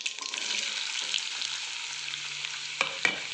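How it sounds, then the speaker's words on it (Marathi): Carrots with cumin seeds sautéing in a pan, a steady soft sizzle throughout with a couple of sharp spoon scrapes and clinks near the end. "आणि आपलं गाजर लगेच आपण परतायला टाकणार आहोत."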